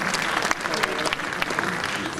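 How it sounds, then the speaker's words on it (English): An audience at a Miss Tourism Uganda pageant event claps for the cluster heads, a brief, full burst of many hands with some crowd noise mixed in. "A round of applause to all the cluster heads."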